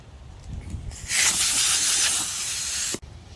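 Compressed air blasts across a dented, custom-painted metalflake Harley motorcycle tank in a workshop, a single loud, steady hiss lasting about two seconds and then cutting off sharply.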